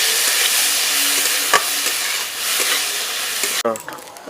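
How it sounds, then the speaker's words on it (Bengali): Soaked chana dal and peanuts fry in a pan with a loud, steady sizzle and scraping stirs, one sharp knock midway, before the frying cuts off into a brief clatter. "ছোলার ডাল আর চিনের বাদাম হালকা ভেজে নিয়েছি"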